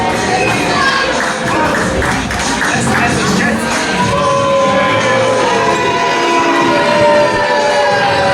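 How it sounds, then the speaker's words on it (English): A pro wrestling crowd at a live show reacts as wrestler Graeme Hughes makes his entrance, a loud dense roar of voices and jeers over tonal entrance music, sustained throughout. "Crowd don't seem too pleased to see Graeme tonight."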